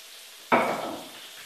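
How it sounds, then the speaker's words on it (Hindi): A sudden sizzle bursts up as cumin and nigella seeds hit hot oil, then the crackling frying settles into a softer, steady hiss close by. "तो थोड़ा सा हम भूनेंगे, बस थोड़ा सा ही भूनना है ताकि ज़ीरे को थोड़ा तड़का लग जाए।"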